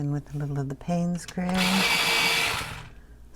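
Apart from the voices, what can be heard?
pencil sharpener sharpening a coloured pencil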